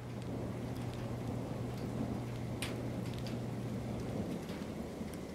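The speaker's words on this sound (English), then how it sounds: "It's starting to rain." Steady rain during an electric storm hisses in a broad, even wash, with a low constant hum underneath and a brief crackle partway through.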